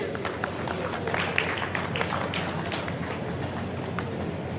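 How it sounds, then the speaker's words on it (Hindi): Sustained applause from the audience at a book launch in Bhadra for Surendra Beniwal's book: a steady wash of many people clapping, moderately loud, with individual sharp claps standing out now and then. "साहित्य के सम्मान में भादरा में तालियों की गड़गड़ाहट रुकनी नहीं चाहिए।"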